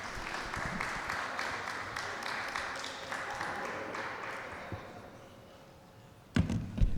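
A community board meeting audience applauds a man called to the front, a moderate wash of clapping that gradually dies away before a few loud thumps and knocks close by at the end.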